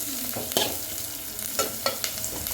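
Onion frying in a pan for chana tikki veg rice, a steady soft sizzle with a few sharper stirring scrapes and clicks, close and alone with no voices.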